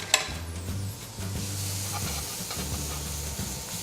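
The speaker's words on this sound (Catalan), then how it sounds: "Els vull més fregidets que sofregits" Courgette and other vegetables frying quickly in a splash of olive oil give off a steady close sizzle and hiss, broken by brief pauses and a faint clink near the start.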